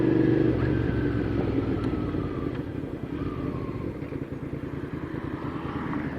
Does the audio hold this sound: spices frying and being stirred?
no